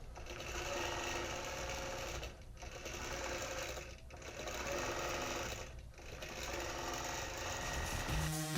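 A computerized embroidery sewing machine runs steadily, stitching a drawn pattern with a continuous, busy mechanical whir, pausing briefly a few times before resuming at a constant close, moderate level.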